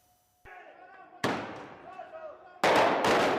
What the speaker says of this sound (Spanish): Explosiones en las calles de La Paz